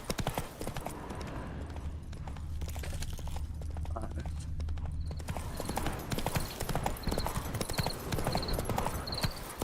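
Roach the horse gallops in The Witcher 3, a quick rhythmic run of hoof clip-clops under game music, with a short pause before the steady galloping resumes.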